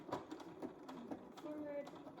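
A sewing machine back stitches a snap placket in short mechanical bursts of stitching, close and moderately loud, with a voice talking over it.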